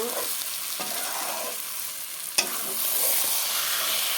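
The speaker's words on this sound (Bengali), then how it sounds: "মশলার সাথে কষিয়ে সবজির সাথে" Vegetables and spices sauté in a pan for a Bengali ridge gourd, potato and fish dish, giving a steady close sizzle with occasional light scrapes and one sharp clack from a utensil, and no speech.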